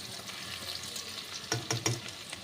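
Onion frying in a pan for a chicken dish, a steady faint sizzle with a few sharp clicks of stirring near the end, no talk.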